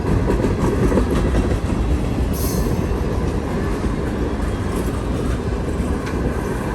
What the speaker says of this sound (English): This train's going to the quarry at Plum Run.